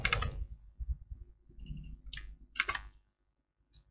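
A computer keyboard is pressed during a copy-and-paste shortcut. There are several sharp, close clicks in quick irregular bursts, followed by near silence.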